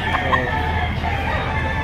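A medium-to-small gamecock rooster crows briefly among other fowl at a chicken auction in Lipa, Batangas, with a steady crowded background din.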